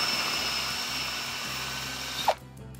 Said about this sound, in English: Goes through a lot easier because there's not a metal bar to drill through on the inside